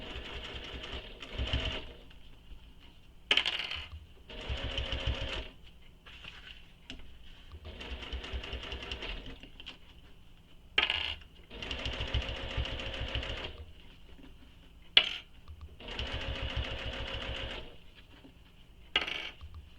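A sewing machine stitches the bottom of a backpack pocket at regular stitch length, running in several short bursts separated by brief pauses, close and clear.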